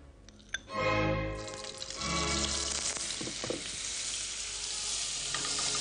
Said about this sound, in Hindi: इस तेल में मक्खन डाल देते हैं।